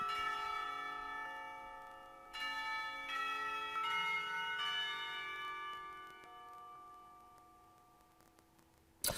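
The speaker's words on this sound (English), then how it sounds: "bell rings, signaling the end of the period" A school clock tower bell in the visual novel Katawa Shoujo rings out with sustained, ringing tones. Fresh strikes land a few times early on, then the sound slowly fades into a long, quiet decay.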